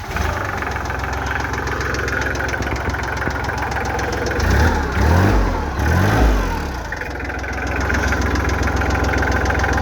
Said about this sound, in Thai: เครื่องระบบนิ่มนะครับ มีเสียงวาวหน่อยหนึ่งนะ